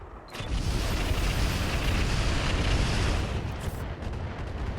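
Artillery fire on a Marauder mech in the video game RogueTech: a dense, continuous rumbling barrage of blasts that holds loud for several seconds and then eases slightly, with no talking.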